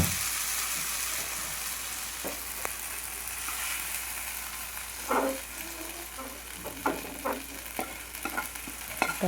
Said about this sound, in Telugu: ఈ బీరకాయ ముక్కలన్నీ బాగా వేగాయి